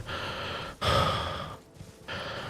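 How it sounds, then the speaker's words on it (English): Heavy, drawn-out breaths close to the listener, a few long inhales and exhales with brief pauses between them, no talking. "That heavy breathing you're hearing?"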